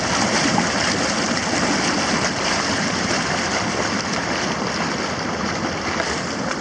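A heated outdoor jacuzzi at a mountain hotel bubbles steadily, giving a loud, constant rush and churn of water that stays close and unchanging, with no voices.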